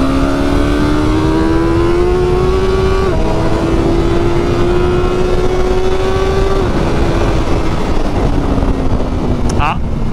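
Motorcycle engine droning at high revs on a racing circuit, a loud sustained tone climbing slowly through gear changes, with a rider's voice talking over it.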